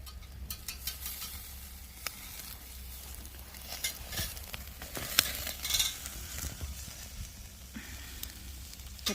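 Lamb and thick green onions grilling over an oak wood fire outdoors on an autumn farm, soft sizzling and crackling with occasional scraping and tongs clinking, fairly quiet and close.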